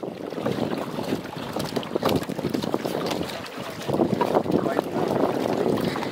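A speed boat runs on the Hirakud Dam reservoir with a steady engine rumble, heavy wind buffeting the microphone and rushing water, all continuous and close.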